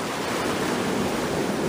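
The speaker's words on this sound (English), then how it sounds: "some frickin' wave comes right in and blasts just as I'm trying to walk through here" Ocean surf rushing up a beach on a mildly windy day, a loud, close, continuous roar of breaking water with a touch of wind noise on the microphone and no talking.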